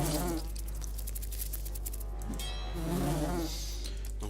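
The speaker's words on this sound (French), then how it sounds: "Des guêpes." Wasps buzzing in the video game Lords of Xulima, a steady droning insect hum with layered whining tones, continuous and fairly close over a low background tone, no voices.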